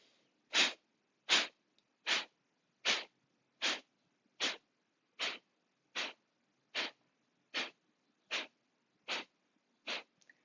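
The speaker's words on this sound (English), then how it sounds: "Take a comfortable inhale and begin with a sharp, quick exhale." Sharp, quick forceful exhales of fire-breath yoga breathing, thirteen close bursts evenly spaced under a second apart, each a short breathy puff in otherwise quiet surroundings.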